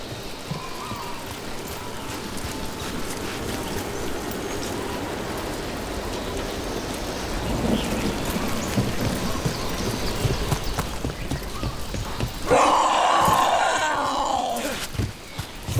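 Steady rain falls in the Dragon Age: The Veilguard video game, a continuous hiss that swells slightly midway, with a louder, brighter burst of downpour or rumble near the end; no thunderclap stands out clearly.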